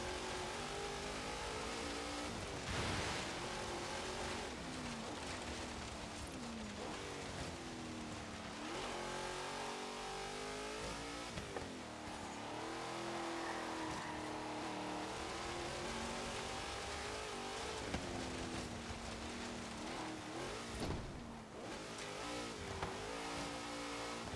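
A modified 1972 Hoonigan Chevrolet 'Napalm Nova' race car on an autocross course, its engine snarling loudly as it revs up and down through repeated acceleration and lifts, close and continuous for the whole stretch, with no talking.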